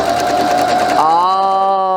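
A sewing machine stitches pajama pants with a rapid whirring buzz, then slows and settles into a steady hum near the end; close and clear, with no talk.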